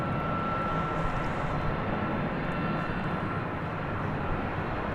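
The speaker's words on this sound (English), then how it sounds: "Here's the American flight from Los Angeles" An American Airlines jet arriving from Los Angeles at DFW Airport at night, a steady broad engine roar that holds loud and close for the whole stretch with no talk over it.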